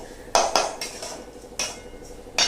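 Mouth-freshener seeds dry-roasting in a pan over medium heat, heard as a few sharp metallic scrapes and clinks of stirring at irregular intervals over a soft background rustle.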